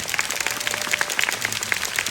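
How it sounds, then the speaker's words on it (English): A crowd applauding steadily, many hands clapping in a dense, continuous patter at moderate volume, with no voices over it. "we should give a very big round of applause to Mr. Yap."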